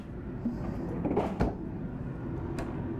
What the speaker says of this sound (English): pull out pantry shelf